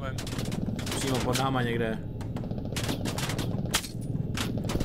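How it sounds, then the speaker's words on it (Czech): Rapid bursts of gunfire from below an aircraft in the tactical shooter game Squad, sharp repeated shots in short volleys mixed with engine drone while players talk over the action. "Střílí něco po nás. Ze spoda."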